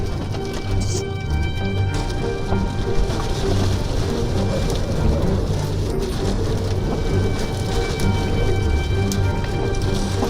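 A Florida storm brings steady heavy rain pouring across a surface, a dense continuous hiss with a low rumble of thunder beneath it and no voices.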